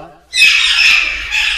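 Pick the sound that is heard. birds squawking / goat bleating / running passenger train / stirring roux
birds squawking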